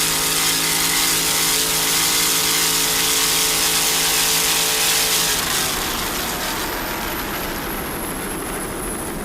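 An offshore racing powerboat engine drones loudly, then its tone drops away about halfway through, leaving a rushing wash of noise as it slows.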